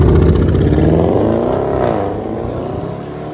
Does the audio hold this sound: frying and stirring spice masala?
no